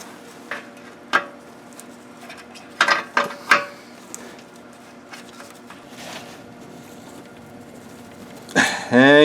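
A ratchet tightening a bolt on a car radiator gives a few scattered metallic clicks and clanks at close range, with a louder burst of handling noise at the end.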